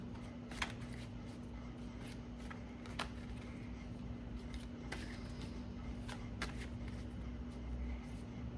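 Tarot cards being shuffled by hand, giving a series of soft, scattered riffles and flicks at moderate level over a steady low electrical hum, with no talk.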